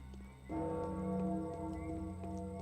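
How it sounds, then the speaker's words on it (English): A clock bell tolls in the Pathologic video game, striking the hour of ten with a resonant, ringing tone that swells in at once and sustains loudly, with no voices over it. "was that the bell for 10?"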